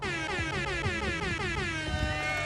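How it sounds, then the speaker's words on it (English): A loud, blaring air horn sounds in repeated stuttering blasts, the classic celebratory sound effect, with no voices. "you gotta give an air horn to this"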